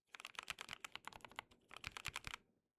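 Arrow keys on a Keychron Q6 Max keyboard with Gateron Oil King V2 switches, tapped quickly in two bursts of rapid, close, muted clacks with a short pause between them.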